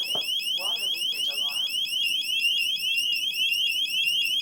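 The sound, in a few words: eufy Security water leakage alarm sounding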